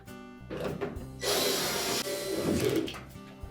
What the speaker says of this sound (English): install those three screws